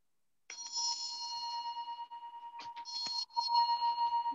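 A bell rings in a classroom lesson on musical instruments: bright, sustained metallic tones, then a second run of strokes after a brief break, clear and fairly close.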